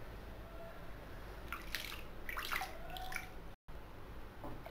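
Lukewarm water for a foot soak is swirled around in a container by hand, giving soft, faint sloshing and dripping with no talk.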